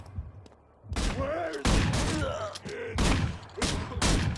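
Shotguns fire repeatedly in the video game Manhunt, a run of loud, booming blasts in uneven bursts, some overlapping, with faint groans and mechanical clatter between them.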